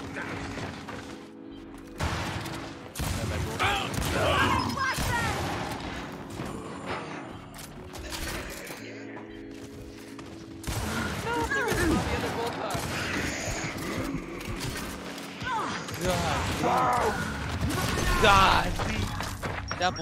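Bulldog shotgun blasts in Gears 5 ranked Control multiplayer, heavy booming shots mixed with other gunfire and mechanical clatter, while players talk over the action.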